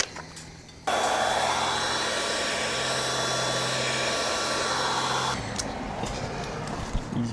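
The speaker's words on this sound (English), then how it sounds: "Don't touch the heat gun." A heat gun blows hot air onto solder connectors during exterior repair work on a 1993 Jayco camper, a steady loud whooshing roar that starts abruptly after a second, holds for several seconds, then cuts off.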